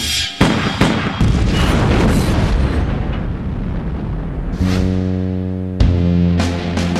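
A car bomb detonates with loud, booming blasts, a sharp onset followed by sustained rumbling roar and debris noise, then a second burst near the end over a low droning hum.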